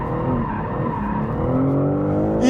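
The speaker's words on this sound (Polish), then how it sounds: "ten tył, jak pięknie się tutaj uślizguje" A BMW M3 G80 slides its rear end while drifting, tires squealing loudly and continuously under a roaring engine, close and sustained for a few seconds.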